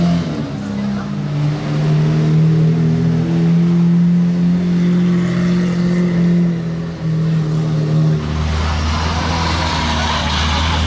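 An Aston Martin Valkyrie with a non-original aftermarket exhaust passes on a road, its loud sustained engine note droning and shifting pitch before dropping away, with people talking over it.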